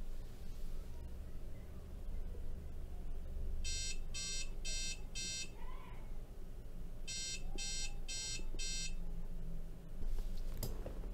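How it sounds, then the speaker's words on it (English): A micro:bit beeps after a banana wired to it as a touch input is touched: two bursts of four rapid electronic tones a few seconds apart over quiet room noise. "a beep should be sounded"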